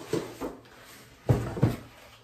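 A cutlery set being put into a kitchen drawer gives two pairs of soft, close wooden knocks and slides, separated by a short pause, in an otherwise quiet room.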